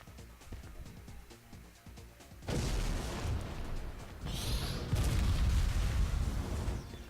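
The Redeemer, a large rocket in pre-alpha Unreal Tournament 2014, launches and then roars as a dense, rumbling blast that swells and holds loud to the end.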